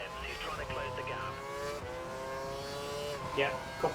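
Formula 1 car engine in the racing game F1 2012 screaming at high revs, steady rising and falling engine tones with a short shift dip, under a radio voice.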